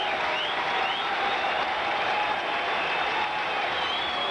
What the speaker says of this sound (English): Now the crowd, with 2 strikes on the hitter, begins to cheer.